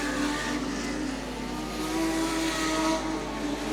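Legend race cars circling Archerfield Speedway, their mid-pitched engines droning steadily at a distance with a few rising revs, a continuous blended roar with no voices.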